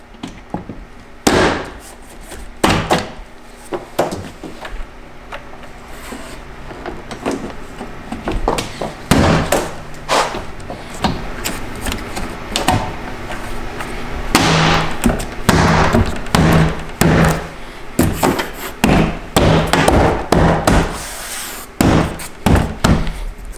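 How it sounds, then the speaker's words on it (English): Interior trim panel clips on a BMW E46 M3 being pushed into place, heard as a series of loud, sharp snaps, knocks and thumps at irregular intervals close by, with some rustling between them. "then we can push in the top clips here"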